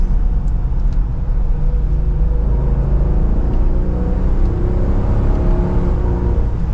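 2023 Dodge Durango R/T Hemi V8 pulling under throttle, a loud steady engine drone that rises slowly in pitch from inside the cabin, continuous with no voices.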